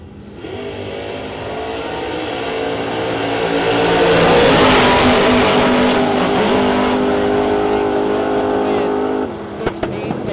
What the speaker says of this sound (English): England in the Fox Body Mustang.